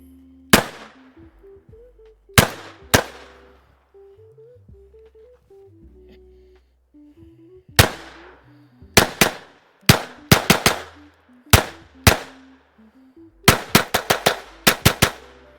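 A Taurus TX22 .22 pistol fires sharp, close shots, first as single reports with pauses, then in quick bursts of several rounds, each crack ringing briefly before it fades.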